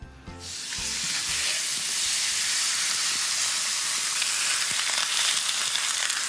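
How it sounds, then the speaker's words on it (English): Steak sizzles steadily in a hot frying pan, a loud continuous crackling hiss that starts abruptly and holds throughout, with no voices. "While the meat sizzles away"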